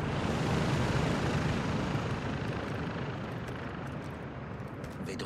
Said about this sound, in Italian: Un elicottero in arrivo.